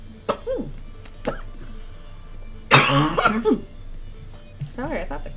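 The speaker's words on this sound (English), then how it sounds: "I thought the cough stuff was gone" A person with a lingering cough coughs hard and close in the middle, a loud raspy burst with a couple of follow-up hacks, while speech-like vocal sounds come before and after.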